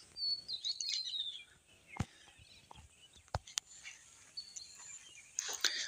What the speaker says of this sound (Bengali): চারিদিকে শুধু পাখির কলকাকলি শব্দ